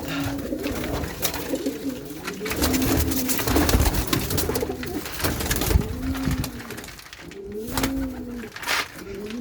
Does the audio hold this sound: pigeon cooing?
yes